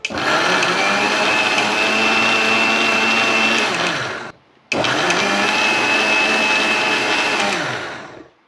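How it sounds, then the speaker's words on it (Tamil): A mixer grinder purees tomatoes for a crab curry, its loud, steady high whine running for about four seconds, cutting off briefly, then starting again for another long burst before winding down. "தக்காளி அரைச்சாச்சு"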